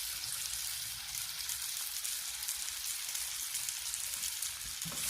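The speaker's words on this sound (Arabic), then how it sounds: "نصغر الفرن ترجع تقلي شوية" A potato and cabbage omelette fries in a pan with a steady, close sizzle and crackle that holds at an even level throughout, with no voices.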